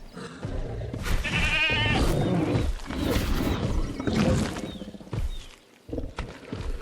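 A goat bleats in a video game's dinosaur kill animation. Several wavering, nasal bleats rise over a busy, crunching game soundtrack, then fade into quieter scattered thuds.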